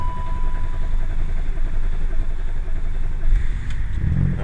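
A Land Rover TD6 diesel engine cranks and catches, settling into a steady low rumbling idle close by, with a louder surge near the end; no one speaks.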